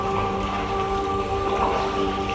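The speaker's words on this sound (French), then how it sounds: "on voit le passage de la pluie, on voit les gouttes d'eau, là, qui rebondissent" Raindrops falling and bouncing on open water beside a three-person canoe, a dense, steady patter that continues evenly with no voices over it.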